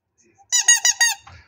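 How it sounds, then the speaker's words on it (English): Vintage squeaky toys, including Tweety Bird and Noddy figures at an auction walkabout, give a quick burst of four loud, close rubber squeaks in a row. "Squeaky Toys. Tweety Bird and Noddy and the other two."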